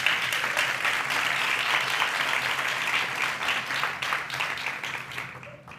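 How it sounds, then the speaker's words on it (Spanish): An audience applauds steadily for several seconds, a dense wash of clapping that thins out near the end. "Quiero un aplauso, por favor."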